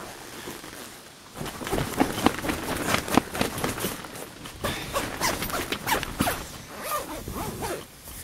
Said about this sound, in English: I just gotta zip this door up.